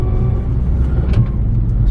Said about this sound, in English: it clunks when it goes into second gear